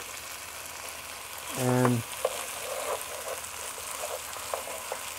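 Meat and tomato paste sauté in a pan for an Okra stew, giving a steady frying sizzle with a few light stir clicks, close by, while a voice briefly speaks and a short tonal beep sounds early on.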